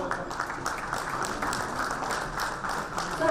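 Audience applause for an honored school principal on stage at an awards event, a steady wash of clapping at moderate level that continues for the whole stretch with faint background murmur.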